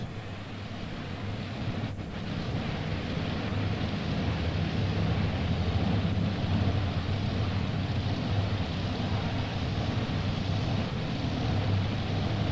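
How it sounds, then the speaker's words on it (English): Tractor pull engines at the 1996 National Farm Machinery Show, a multi-engine puller with three all-aluminum-block Arias engines firing up, giving a heavy, continuous low roar that swells after a couple of seconds and holds steady. "Wayne Garrett has fired on the other wing with multi-chaos."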